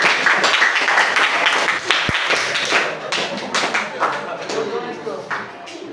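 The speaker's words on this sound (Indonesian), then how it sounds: "Berikan tepuk tangan" Students in a classroom clap together, a brisk burst of many hands that thins and fades out over several seconds, with a teacher's voice speaking over it.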